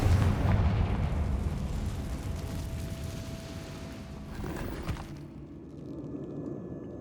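A Confringo fire spell blasts in Hogwarts Legacy, a loud broadband explosive roar that rumbles on for several seconds and fades, with a sharp crack near the five-second mark and a softer tail of settling debris.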